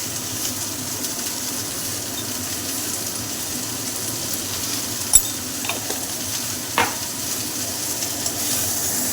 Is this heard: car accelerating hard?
no